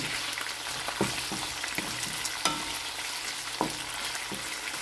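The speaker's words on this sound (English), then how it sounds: "Sauteing doesn't really take that long in its process. I use over medium flame." String beans for adobong sitaw sauté in a pan over a medium flame, a steady moderate sizzle with occasional clinks and scrapes of a utensil, close and free of talking.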